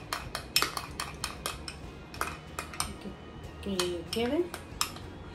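A spoon stirring prepared cream together with liquid cream in a bowl for covering a cake. Repeated clinks and scrapes of utensil against the dish come in an irregular rhythm, with a few brief spoken words.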